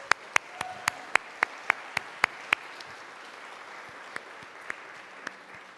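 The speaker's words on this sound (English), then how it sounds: "give the Lincoln Arts Council staff and board and supporters, all of you, a round of applause" Audience applause at an arts awards ceremony, heard as a run of sharp, evenly spaced claps close by that thins out into a few scattered claps before fading.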